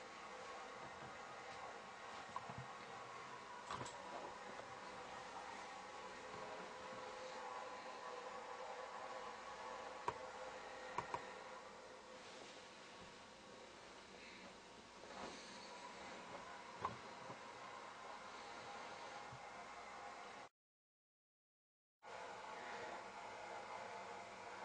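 A Centura shoulder CPM machine's motor runs steadily through flexion and extension, a faint, continuous mechanical hum with a few small clicks, and a brief dropout near the end.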